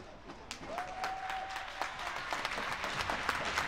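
Crowd applause at a youth under-14 inline hockey quarter-final, steady and moderately distant across the rink, with a sustained whistle tone cutting through early on and scattered clacks from the play.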